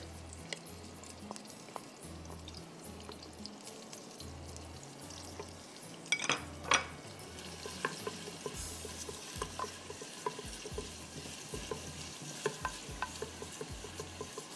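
Chopped tomatoes sizzling softly in a pot while a spoon stirs them with regular scraping strokes and wet squelches, close up with a few sharper knocks around the middle, no talking.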